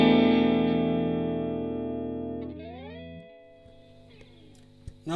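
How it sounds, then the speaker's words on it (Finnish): Electric guitar played clean through a Väre Dirt Fuzz pedal: a single sustained chord rings out and slowly decays, then a quieter shifted chord and a few soft string noises, close and alone. "Clean soundi kuulostaa tältä."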